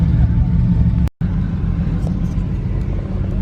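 A tuned Hemi Ram truck rumbles as it drives up at a drag strip, a loud, close, steady low engine drone that cuts out briefly for a moment and then resumes.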